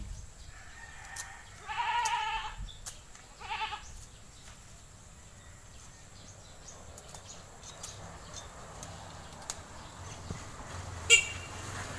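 Two distinct goat bleats ring out close by early on, followed by quieter farmyard ambience with goats and sheep and scattered small sounds.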